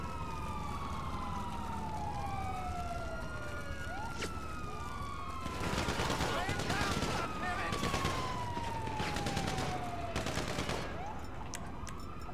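Bursts of gunfire ring out in GTA 5 over wailing police sirens that sweep up and down, with two clusters of rapid shots in the middle and later stretches, and voices faintly in the mix.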